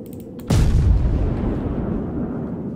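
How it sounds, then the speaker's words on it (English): Battleship shells striking a destroyer in the naval combat game World of Warships, heard as one sudden loud, deep blast followed by a long rumbling decay, with a few faint ticks just before. "Oh crap, battleship shells."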